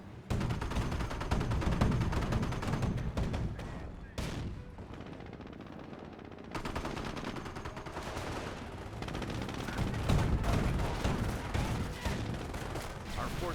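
Rapid bursts of tank and gun fire in the Company of Heroes strategy game, including a 37mm gun, with repeated loud cracks and rattling volleys over battle noise, a short lull midway, then heavy firing again while a commentator talks.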